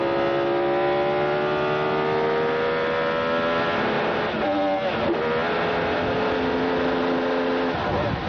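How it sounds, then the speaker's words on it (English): An Indy car engine at the 1999 Phoenix IRL race holds a loud, steady high-pitched whine, then stumbles through a missed gear shift partway through with a brief drop and wobble in pitch before climbing again. "Did you hear that? Kenny Bragg missed a shift."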